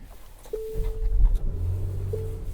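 A 2023 Nissan Pathfinder Rock Creek engine starts up and settles into a low, steady rumble heard close by from inside the cabin, with a pair of short electronic chimes over it.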